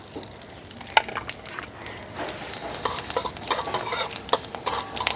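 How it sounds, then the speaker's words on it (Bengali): Panch phoron and a dried red chilli hit a little hot oil in a wok, crackling and sizzling up close while a spoon stirs and clinks against the metal. "আর একটু দিয়ে দিচ্ছি 5 ফোড়ন।"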